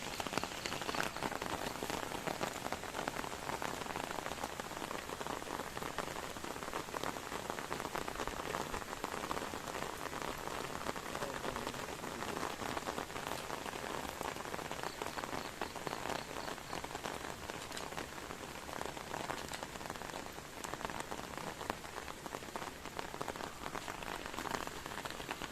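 Steady rain falls through a forest canopy in a large wooded park, a dense continuous patter of drops on leaves and surfaces lasting throughout, close and even with no voices.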